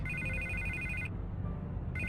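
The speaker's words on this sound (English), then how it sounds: "I can't get the phone to stop ringing." A telephone rings in repeated bursts of electronic trilling, a long ring, a pause, then another ring starting, fairly quiet over a low background hum.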